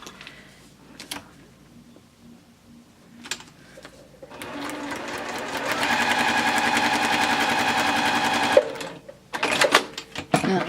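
A sewing machine stitches a quilt block, starting with a few short isolated bursts, then running in a steady rapid chatter for several seconds before stopping, followed by quick stop-start stitching.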